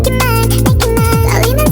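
K-pop track plays loud and dense, with a thumping beat, sliding bass drops and bright synth layers packed into a short burst.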